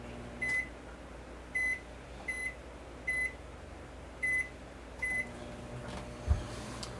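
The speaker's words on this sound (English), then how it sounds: "just pop it in the microwave for about 45 seconds to heat it up" A microwave oven hums quietly while heating andouille sausage, with seven short, evenly spaced electronic beeps sounding over the drone.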